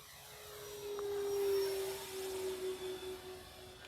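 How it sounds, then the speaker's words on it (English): Horizon Hobby Turbo Timber 1.5m RC plane's electric motor whining overhead in flight, a steady buzzing drone that swells and fades slightly as it passes at moderate distance. "It's kind of got that like turbo-esque kind of noise."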